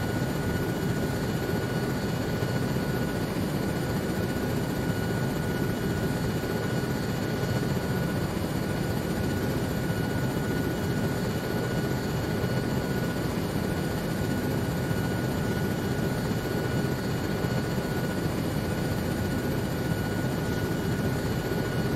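Helicopter in a Vietnam-era military simulation game, a steady, dense rotor and engine roar that holds constant and loud throughout with no breaks.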